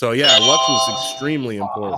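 An InDrive rideshare app ride-request chime rings out as a bright, sustained tonal alert, sounding throughout under someone talking over it.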